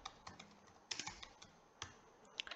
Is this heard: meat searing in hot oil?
no